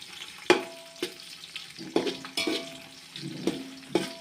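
Potatoes frying in a pan for poha cooked over a wood-fired chulha, a close, steady sizzle punctuated by sharp scrapes and knocks of stirring about every second.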